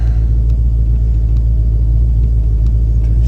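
A 1966 Ford Mustang engine fitted with Atomic EFI runs at a steady idle, a loud, close, continuous low rumble with no revving and no talking.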